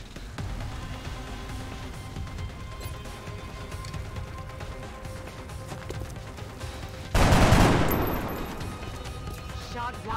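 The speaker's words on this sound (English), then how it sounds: "There's heavy fire in this zone." Gunfire in the tactical video game XCOM: Enemy Unknown, a continuous crackle of distant shots and mechanical clatter, then a loud close burst of heavy fire around seven seconds in that slowly fades.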